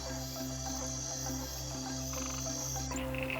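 Frogs croak in a dense wildlife chorus, with low pulsing calls repeating in a steady rhythm over a continuous high insect-like trill, all unbroken and with no voices.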